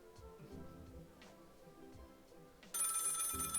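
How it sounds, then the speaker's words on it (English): A telephone rings in the video game Lil' Guardsman, with repeated electronic ring bursts over game music, followed by a louder, brighter ringing tone near the end. "The phone is ringing."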